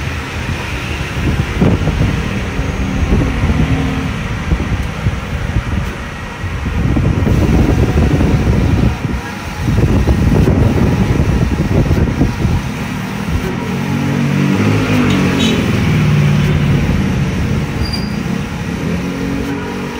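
Steady mechanical whirring and rumbling of a large format printer printing a tarpaulin, running continuously, with shifting motor and carriage noise throughout.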